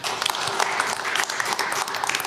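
An audience at a regional safe-city forum gives sustained applause, a dense, bright wash of many hands clapping at once that holds steady at a moderate distance.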